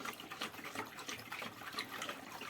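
Two liters of water pour steadily in a soft, continuous gush while mixing homemade chlorine bleach, quiet and fairly close, with no voices.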